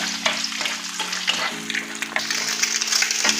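An egg fries in a pan with salt, turmeric and cumin powder, crackling and sizzling loudly while a spatula stirs and scrapes in repeated close strokes.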